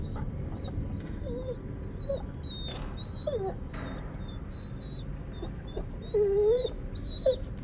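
A dog in The Devil in Me whimpers in short, high, wavering whines, repeated at irregular intervals, close and plaintive against a low rumbling backdrop.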